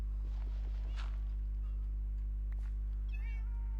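Minecraft cats meowing while being wrangled, a few short meows over a steady low electrical hum, with light footstep sounds in between.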